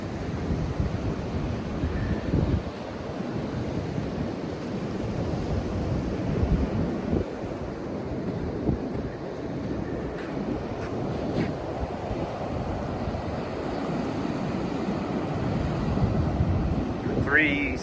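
Strong cold wind buffets the microphone on an Outer Banks beach in North Carolina ahead of a winter storm, with a continuous low roar of surf beneath gusty rumbling throughout.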